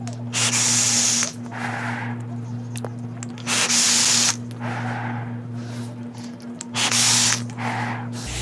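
Three long, loud hissing draws on a Royal Hunter X dual-coil vape with 0.15-ohm coils at 70 watts and open airflow, each lasting one to two seconds, separated by quieter breathy pauses over a steady low electrical hum.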